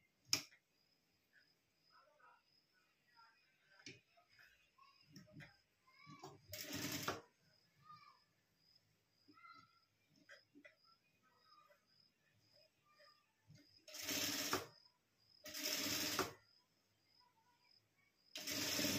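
A sewing machine stitches a blouse in several short loud bursts of rapid needle clatter, separated by quiet pauses filled with faint handling noises and small clicks.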